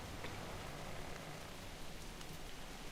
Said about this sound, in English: That's odd. We weren't expecting rain.